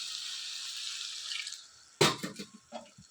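Water poured into mutton keema cooking in a pan, a steady broadband rush lasting about a second and a half, followed by a louder sizzling burst and a few sputtering splashes as it hits the hot mixture.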